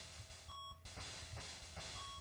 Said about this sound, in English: one beep sound for the notes